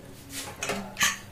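A pressure cooker lid is fitted onto the pot of chickpeas, a few short metallic clacks and scrapes close by ending in one sharper clunk.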